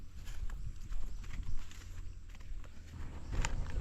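A horse's hooves clop along a rural road, a steady uneven patter of hoofbeats at moderate distance with outdoor background noise and no talk.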